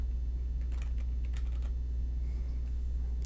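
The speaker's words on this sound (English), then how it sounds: "Hit enter on my keyboard." Quiet clicks of typing on a computer keyboard, a short irregular burst of keystrokes over a steady low hum in an indoor setting.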